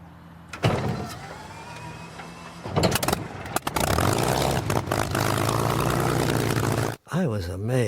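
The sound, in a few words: Spitfire Merlin aircraft engine starting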